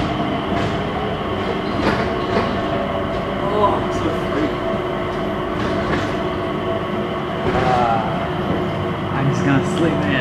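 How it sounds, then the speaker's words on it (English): Inside the automated sky train shuttling between terminals at Singapore airport, a steady rolling hum and rumble with periodic clicks and a faint wheel squeal, heard close while people chat and an announcement plays. "We have this sky train to ourselves."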